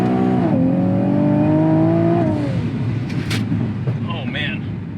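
Supercharged 2019 Nissan 370Z engine revs up in the gap between gear shifts: a loud, rising-then-falling harmonic engine whine that drops in pitch after about two seconds, leaving a rumbling cabin drone with brief clicks.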